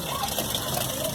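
Water pours and splashes over grains in a bowl as they are washed for the Nigerian drink Kunun Zaki, a steady close gush with a faint voice in the background.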